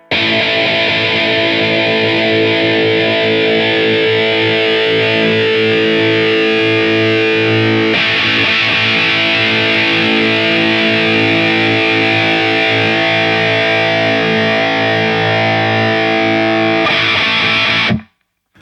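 A distorted electric guitar plays sustained, chord-heavy tones through a Line 6 POD Go speaker-cabinet simulation with the mic 12 inches away, loud and continuous, then cuts off abruptly near the end.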